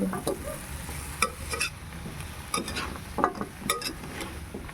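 Squash being stirred in a hot pan with a steady sizzle, with intermittent sharp scrapes and clinks of the spoon against the pan at irregular intervals. No one speaks.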